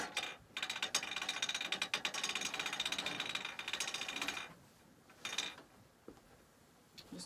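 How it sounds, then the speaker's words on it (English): A longarm quilting machine's end crank is turned by hand, rolling backing fabric onto the back bar with a rapid, rattling ratchet clicking that runs for several seconds, then stops and returns in a short burst. "I have to go down to the end of the machine to actually crank this"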